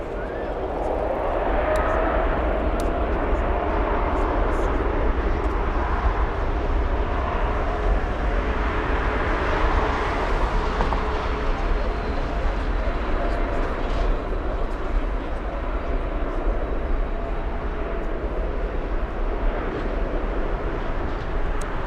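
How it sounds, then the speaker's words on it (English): A Lufthansa airliner on the move at Frankfurt Airport produces a continuous broad jet rumble and whine, with a person talking over it intermittently. "Let's go for Lufthansa, it's on the move."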